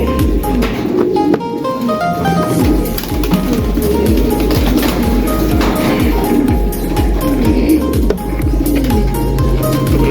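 A loft of racing pigeons coos before feeding, many birds making a loud, dense, overlapping stream of low rhythmic cooing close at hand, with occasional taps and flutters.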